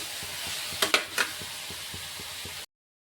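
An ingredient frying in a pan for paneer gravy, a steady close sizzle with a few quick stirring scrapes in the middle, ending abruptly in silence.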